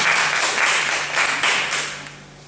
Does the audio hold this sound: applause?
yes